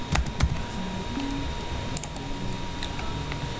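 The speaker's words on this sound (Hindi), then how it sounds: "अब यहाँ पे आपने टाइप करना है टेम्प मेल" Quiet typing on a computer keyboard, a quick burst of clicking keys followed by a few scattered taps, close and soft with no voices.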